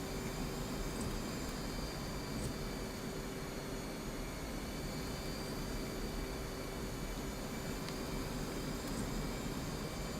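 An F/A-18 Hornet jet engine in the DCS flight simulator drones steadily with a constant whine on top, an even, unchanging roar at a moderate level throughout, no voices.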